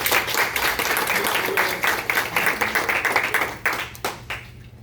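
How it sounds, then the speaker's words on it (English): Audience applause at a university speech: a dense, steady wash of many hands clapping fills the space throughout, then thins and tapers off toward the end. "Little clap, y'all. Show some love."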